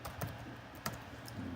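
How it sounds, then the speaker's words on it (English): Quiet typing on a computer keyboard, a few light key clicks spaced irregularly over a faint background hum, with no one talking. "start typing the name, I hit a tab to record it, and then I keep using my arrow key to go through it."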